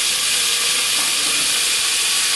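Butter sizzling and splashing in a pot on medium-high heat, a dense continuous bright hiss with crackling, close and loud, with no talking.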